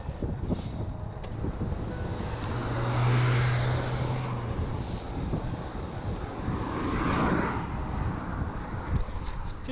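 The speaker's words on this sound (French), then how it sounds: "Attention, voiture." A car on an open road swells past at moderate distance, its engine and tyre roar rising and fading twice over a steady wind-buffeted rumble.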